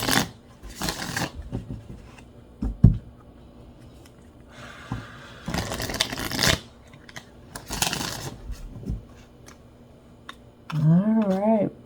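Tarot cards shuffled by hand in a few short riffling bursts, quiet and close, separated by pauses, with a voice speaking briefly at the end.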